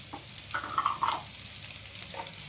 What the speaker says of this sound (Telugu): ఆనియన్స్, క్యాప్సికమ్, క్యాబేజీ మొత్తం వేసుకుంటారా ఒకసారి మొత్తం ఇలాగా కలిపుకోండి